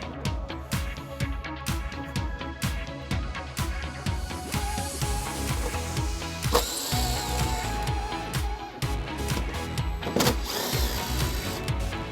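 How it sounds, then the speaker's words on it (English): Ratchet with a 10mm socket loosening nuts on a Honda CR-V during trailer hitch installation: a quick rhythmic run of close mechanical clicks, then scattered clanks and a few sharper metallic knocks. "We're going to remove the push pins using a flathead screwdriver and the nuts using a 10mm socket."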